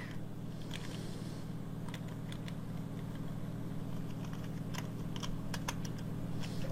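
Someone types on a computer keyboard, a quiet run of scattered key taps at an uneven pace over a steady low hum, with no talking.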